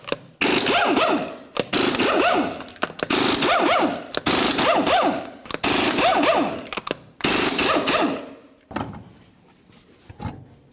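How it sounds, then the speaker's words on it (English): Impact wrench spinning off six 21mm lug nuts from a Nissan Titan front wheel, loud close bursts of rattling hammering about a second each, separated by short pauses, with no talk. "continue on by removing all 6 of your 21mm lug nuts, and then the wheel"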